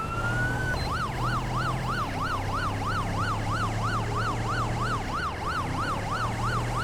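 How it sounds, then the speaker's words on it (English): A British police Range Rover siren in GTA 5 wails, cycling steadily up and down, loud and continuous, over a low engine hum, with no talking. "We should have our sirens on."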